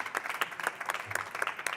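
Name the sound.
audience applause for a presenter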